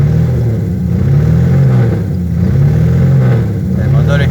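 A Torino GR car engine idles and warms up, a loud, steady rumble with slight rising and falling pulses, heard close with someone speaking over it.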